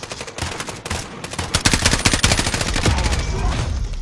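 Gunfire in the battle royale video game Mini Royale, a few single shots followed by a dense, loud burst of rapid automatic fire lasting several seconds.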